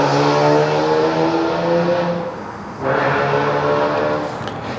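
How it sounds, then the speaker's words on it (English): Car engine droning loudly and steadily with a harmonic, horn-like tone that briefly dips and then returns, heard nearby with no talk. "If you have a car that makes that noise, nobody cares."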